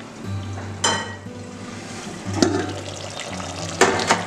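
Chicken fries in oil inside a pressure cooker for biryani, giving a close, steady sizzle with a low hum beneath and three sharp metallic scrapes and clinks of a spoon against the pot.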